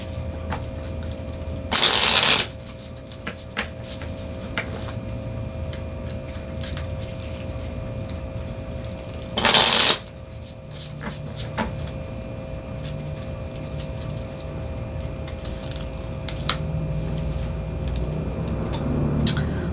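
A deck of Ungame cards is shuffled in two short, crisp riffle bursts several seconds apart, over a steady low room hum with no talking.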